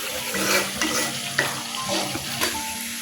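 Spice masala and onions fry in oil with a dense, loud sizzle. Repeated scraping strokes of a spatula against the pan run through it, and no one talks.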